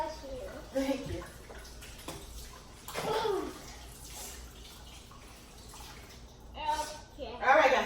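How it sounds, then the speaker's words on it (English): Tap water running while hands are washed in a home kitchen during wing preparation, a steady soft rushing and splashing that sits low under nearby talk and a few louder noises. "Let me just wash my hands."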